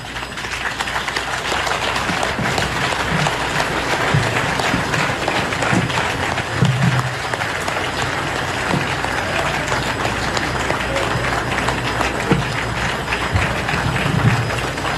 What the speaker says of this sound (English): je demanderai au public ici présent de se lever et d'applaudir très fort pour le président de la République